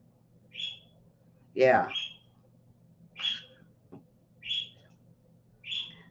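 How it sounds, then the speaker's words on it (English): A pet bird calls indoors in five short, sharp chirps spaced about a second apart, near and fairly loud, with a person speaking briefly during one of the calls. "there goes the bird"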